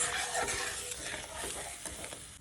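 Water comes to a boil in a pan before small fried fish are added, a steady bubbling and sizzling hiss close by, with a little stirring and no talk.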